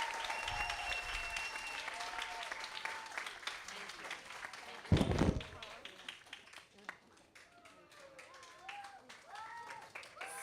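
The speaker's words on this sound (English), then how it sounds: "I just want us to give them a round of applause for all that they did this year" An audience claps for a kindergarten class at a step-up ceremony, with cheers and voices over the applause, a loud thump midway, then thinning claps under ongoing talk.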